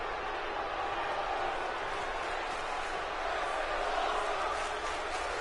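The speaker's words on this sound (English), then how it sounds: "Going up top, you hear the crowd respond" A wrestling crowd reacting as a wrestler climbs the top rope for a superplex, a steady roar of many voices at moderate distance, unbroken throughout and rising slightly near the end, with commentary talking over it.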